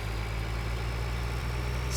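A tractor with a trailer sits idling in Farming Simulator 2013, giving off a constant low, rumbling hum that stays even and fairly loud. No one speaks over it.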